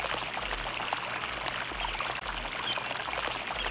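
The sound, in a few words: sound of flowing water, a stream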